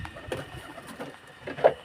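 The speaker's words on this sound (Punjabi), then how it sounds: "ਤੇ ਅੱਠ ਕਬੂਤਰ ਆਪਣੇ ਉਧਰ ਅੰਦਰ ਆ" Soft, low cooing from pigeons close by, repeating in short pulses with light rustling between calls.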